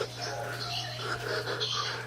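A bird calls indoors after flying into a house, giving soft, intermittent cooing chirps over a steady low hum, moderately close and without speech.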